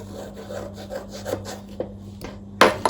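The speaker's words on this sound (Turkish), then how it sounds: "Ben de şöyle doğrayıp şekere yatıracağım." A knife chops food on a wooden board, slicing it to be laid in sugar, with a run of light, fairly regular cuts close by and a sharper knock at the end.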